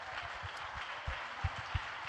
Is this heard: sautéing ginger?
no